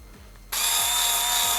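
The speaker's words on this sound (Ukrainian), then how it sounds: "спробуємо ножниці ці спочатку на якійсь бумазі" Intertool WT-0300 cordless screwdriver fitted with a scissors attachment kicks on suddenly and runs as a steady bright buzzing whir, with faint rhythmic low thumps in the background.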